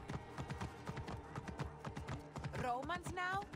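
Horse hooves clip-clop steadily at a slow ridden pace in Assassin's Creed Origins, a run of close, regular hoofbeats with a brief higher animal call near the end.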